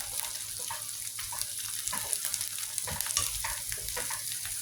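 Bay leaves sizzle in hot oil while long beans are stir-fried, a dense, steady close crackle with spatula scrapes and stirring clatter scattered throughout, and no talking.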